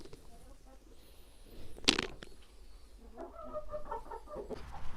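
Hen in a farmyard coop clucking near her nest, a run of soft, repeated clucks building toward the end, with one sharp loud burst near the start and low background noise.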